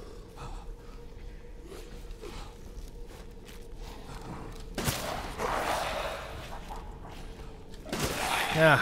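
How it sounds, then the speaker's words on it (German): Two loud, sharp pump shotgun blasts a few seconds apart in Resident Evil Village, each followed by a broad rumbling burst, over a steady low hum and scattered clicks. "Zwei Schuss Pumpgun."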